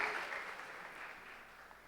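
A congregation at a church worship service applauds with steady, even clapping that stays fairly faint and slowly tapers off.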